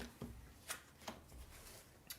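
A deck of cards being shuffled for the Earthborne Rangers card game, a series of crisp riffling bursts and soft taps spaced irregularly over a couple of seconds, close and moderately quiet.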